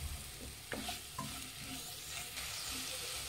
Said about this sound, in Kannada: ಈಗ ಇದನ್ನು ಮಿಕ್ಸ್ ಮಾಡೋಣ